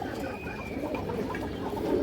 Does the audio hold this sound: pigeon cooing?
yes